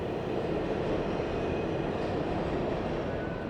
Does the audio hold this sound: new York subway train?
yes